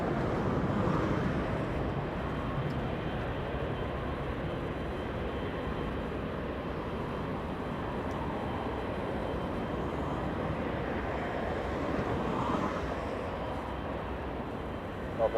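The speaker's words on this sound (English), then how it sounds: "a big Queen of the Skies landing in the south side of LAX" A Boeing 747 Queen of the Skies lands on the south side of LAX, giving a steady, broad rumble of engine and airflow noise that stays fairly loud throughout, with no talking.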